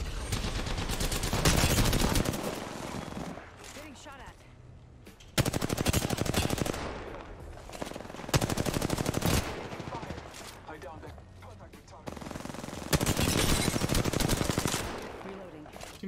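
Bursts of automatic gunfire in the Apex Legends battle royale, several loud sustained volleys separated by short quieter gaps, with a voice speaking between the bursts.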